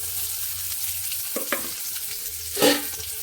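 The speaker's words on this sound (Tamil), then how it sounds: "இப்போ வெங்காயம் நல்லா செவந்து வரணும், வதக்கணும்" Onions sizzle steadily in a hot pan, broken by a few brief scraping stirs, with no talking.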